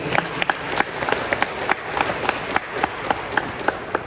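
Church congregation applauding after a scripture reading at a Pentecost-themed service, a dense patter of many hands clapping steadily and fairly close for a few seconds, with no talk over it.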